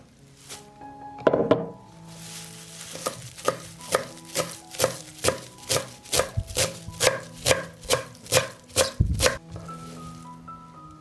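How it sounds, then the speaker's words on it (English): Fresh parsley is chopped with a knife on a board, a quick run of about a dozen crisp, evenly spaced chops after a couple of louder knocks, close and clear with no talk. "I will chop fresh parsley."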